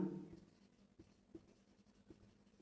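Chalk or marker taps and scratches on a classroom board in a few short strokes, faint and close, with quiet pauses between.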